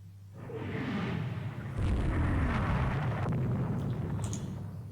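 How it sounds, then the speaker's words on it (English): A torpedo strikes an enemy ship in the naval strategy game Rule the Waves 2, a swelling rumble that erupts into a heavy, sustained blast with crackling bursts, moderately loud and with no one talking. "Enemy ship hit by a torpedo."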